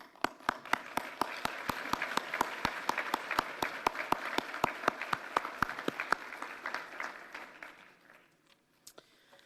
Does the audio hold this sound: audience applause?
yes